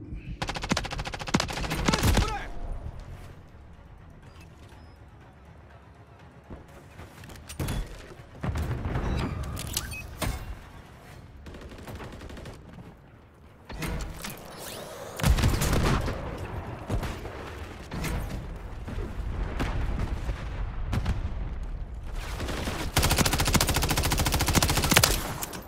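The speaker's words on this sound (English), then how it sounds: "I'm taking fire." Rapid automatic gunfire and bursts of shots in a Call of Duty MW3 Hardpoint multiplayer match, loud and recurring in waves across the clip with brief lulls between exchanges and occasional heavier blasts.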